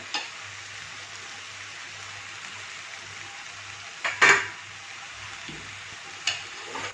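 A steady, bright sizzle of potato and cauliflower frying in a pan for masala, with a couple of brief scraping stirs near the end.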